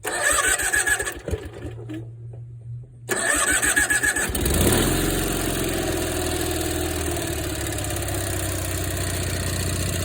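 A Cub Cadet 682 garden tractor engine cranks in short, fast bursts, pauses, then catches and settles into a steady, loud, close idle with a mechanical rattle, with no voices.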